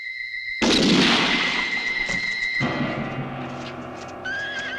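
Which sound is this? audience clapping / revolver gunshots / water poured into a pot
revolver gunshots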